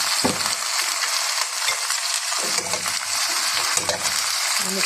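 Vegetables and meat stirred in a hot pan, with a steady sizzle of frying under scraping and clinking of a utensil against the pan, close and continuous.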